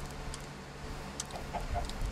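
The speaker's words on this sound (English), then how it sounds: "We got four chickens." Chickens in a mining and building video game give soft, short clucks, a few faint scattered calls over a low background hum, with no talk.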